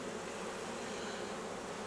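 Local honey bees of the Central Russian type, a swarming colony just moved from a trap into a hive, fill the air with a dense, steady buzz, close and constant with no voices.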